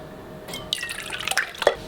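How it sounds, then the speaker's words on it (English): Buttermilk pours into a bowl of plant-based cornbread wet ingredients, a short close liquid trickle with a few splashy drips and glugs, no talking. "Let's add in our buttermilk."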